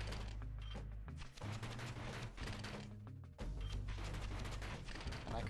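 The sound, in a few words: shooting in the video game Bastion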